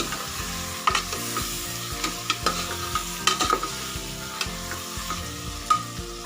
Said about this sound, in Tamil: ஸோ தக்காளி வந்து நல்லா சாஃப்டாக வந்து குக் ஆகட்டும்.